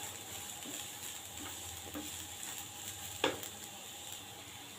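Cabbage and capsicum stir-fried in a pan give a low, steady sizzle broken by soft scraping stirs and one sharper clack of the spatula, with no talking.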